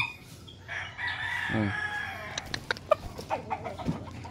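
A young gamecock stag crows once nearby, a drawn-out call followed by scattered clucks and short clicks in a poultry yard.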